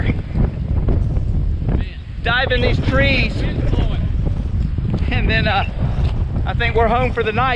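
Strong wind gusting across a coastal island beach at dusk, buffeting the microphone in a constant low rumble beneath someone talking.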